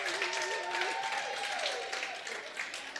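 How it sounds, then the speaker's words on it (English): A conference audience at a women-in-sport event claps for a group of girls, soft and somewhat distant applause with a faint voice or tone drifting over it. "I would like all of us to give a big applause to these girls"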